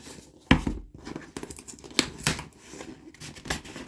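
Tape being pulled and torn off a taped-down diamond painting kit package, with sharp rips, scissors-like snips and crinkling packaging in close, uneven bursts and no talk.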